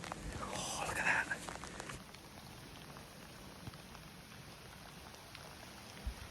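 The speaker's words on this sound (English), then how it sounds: "Even with the rain coming down." Rain falls steadily on an open field outdoors, a soft continuous hiss of drops. A brief burst of other noise sits near the start, then the rain carries on alone at an even level.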